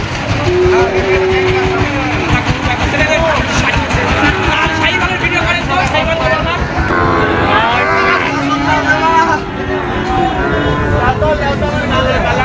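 Friesian cattle low again and again amid a busy cattle-market crowd, long mooing calls cutting through constant chatter and background noise.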